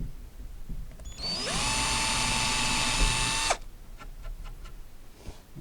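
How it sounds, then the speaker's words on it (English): A power drill bores a hinge hole into a wooden drop-front desk, starting with a rising whine and holding a steady, loud, close high-pitched drone for about two seconds before cutting off abruptly. "Get a little mark, a divot right in the center, and then the drill bit will just follow that right down"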